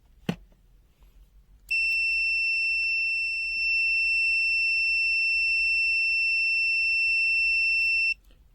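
Continuity beep from an ANENG PN100 clamp meter: one steady, piercing high tone held for about six seconds before cutting off, loud and close after a brief click.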